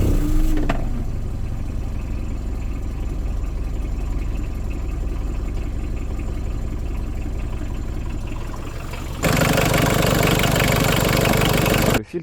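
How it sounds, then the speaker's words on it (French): A Peugeot 205 with a 1.7 diesel engine cranks and catches, then idles with a steady low, knocking clatter up close; near the end the engine note grows louder and brighter before cutting off abruptly. "Démarrer un petit coup, le faire chauffer et voir ce que ça donne."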